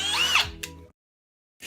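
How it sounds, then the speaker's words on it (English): A power drill drilling out rivets on a 1986 Polaris Adventure whines briefly with a dropping pitch as it bites and spins down, silence follows, then the drill starts again. "What you gotta do is drill it out."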